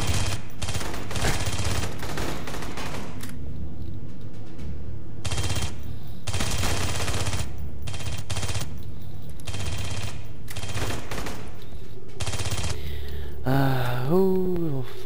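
Video-game gunfire in Aliens: Colonial Marines, Stasis Interrupted: loud repeated bursts of automatic fire split by short pauses, with a rising whining tone near the end.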